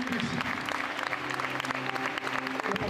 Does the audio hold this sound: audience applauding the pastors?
yes